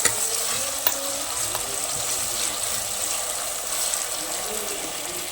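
Beef sautés with onion, ginger and salt in a pan, giving a continuous close frying sizzle with occasional stirring knocks. The hiss stays even throughout.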